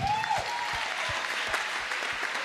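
Applause from a church congregation at a Sunday service in Kahawa West, a steady wash of many hands clapping, fairly faint, with a brief tonal sound at the start.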